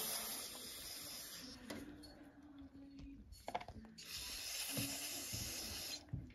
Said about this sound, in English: We use a simple brake cleaner to spray these off